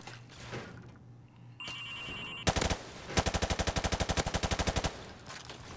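M4 Carbine (M4A1) fired in Call of Duty Modern Warfare Remastered: a short burst, then a sustained rapid full-auto string of sharp, loud, evenly spaced shots, after a brief electronic tone.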